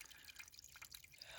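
Water from a trail spring dripping off leaves on the Appalachian Trail, a faint, soft patter of small drips under steady hiss.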